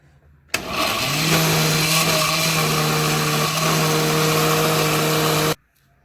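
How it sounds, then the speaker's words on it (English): A countertop blender whirs steadily for about five seconds, blending garlic and onions for a Ghanaian shito pepper sauce, starting abruptly with a loud motor hum that holds an even pitch before cutting off sharply. "This is our garlic and onions. We are going to blend that one too."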